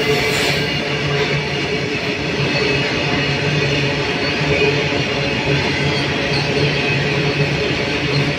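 A freight train hauling petrol containers rolls through Mangolpuri railway station, sending a loud, steady roar of wheels and wagons close by for several seconds, with no talking.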